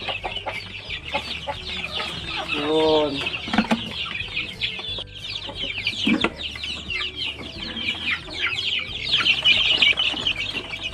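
Farm chickens and young chicks cluck and cheep continuously in a busy flock, with high peeping chatter throughout and a brief spoken word.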